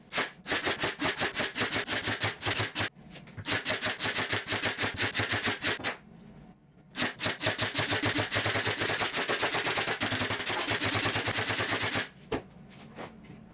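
Brad nailer firing nails through the plywood top of a flip-top tool cart, glued down beforehand: long runs of rapid, loud, evenly spaced snapping shots close by, broken by short pauses, with no talking.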